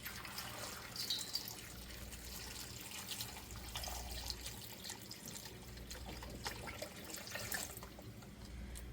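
Salt water from a gallon jug is poured over watermelon rinds, giving a steady, continuous wash of liquid with some trickling and splashing that lasts throughout at moderate level, with no talking.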